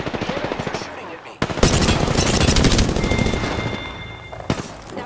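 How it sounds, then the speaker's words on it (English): Sustained automatic gunfire from enemies in the Apex Legends video game, loud and close, with dense rapid bursts and a couple of sharp sudden onsets, continuing for several seconds. "The enemies are shooting at me."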